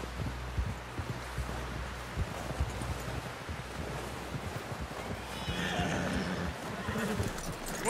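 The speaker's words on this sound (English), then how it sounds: "Someone help John down off this horse" A horse whinnies amid a steady clatter of hooves, with wind and rustling in the background; the sound is moderately close and continuous, in the video game Red Dead Redemption 2.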